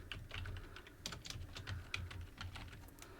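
Rapid typing on a computer keyboard while entering text into a PDF on a PC, a steady stream of close, crisp key clicks with no voices.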